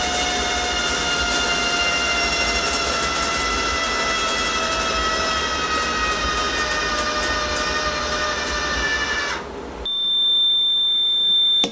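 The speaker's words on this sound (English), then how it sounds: "this is gonna start alarming in a second" A loud, continuous electronic alarm tone with layered high pitches from a woodstove temperature controller sounds steadily, then cuts off and changes to a thinner beeping tone near the end.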